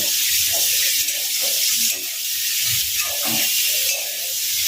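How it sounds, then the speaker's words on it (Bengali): Bitter gourd pieces frying in a pan for a Bengali katla fish curry, giving a continuous loud sizzle and hiss with soft stirring scrapes and no talk. "উচ্ছেগুলো সব দিয়ে দেবো এর মধ্যে দিয়ে একটুখানি আমি এটাকে ভালো একটু ভেজে নেবো"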